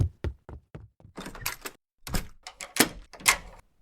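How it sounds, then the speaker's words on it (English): A door being shut and locked: a series of sharp knocks and thuds followed by louder clunks and rattling bolt sounds, close and separate, with quiet gaps between. "There, I've locked the door."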